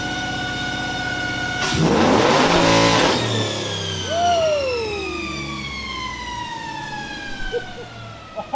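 A Chevrolet Trailblazer SS engine on a dyno, running a nitrous hit, revs hard with a tonal, rising roar that peaks loudly and then falls away, close and prominent.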